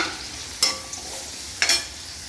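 Onion, green chilli and curry leaves sauté in a pan for a kovakkai puli kulambu, a soft steady sizzle broken by two sharp stirring scrapes, close and alone with no talk.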